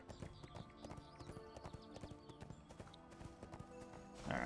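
Mount's hooves clip-clop steadily at a walking rhythm in the online game ArcheAge, a horse just summoned by a Nuian character, with a brief whinny-like flourish near the end over game music.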